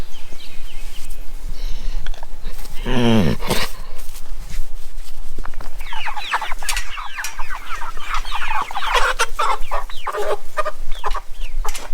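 Backyard chickens cluck and squawk close by in a continuous chatter, with one loud raspy call partway through and busy overlapping clucks throughout.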